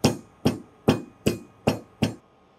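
Cardamom pods being lightly pounded in a kitchen, six evenly spaced dull thuds about half a second apart, close and clear with no talk.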